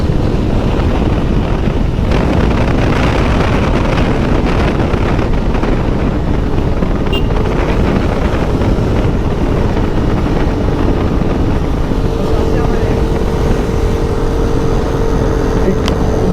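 A motorbike rides over a rough, bumpy road, with steady loud engine and wind rumble throughout and no clear talk.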